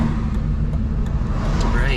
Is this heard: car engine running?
yes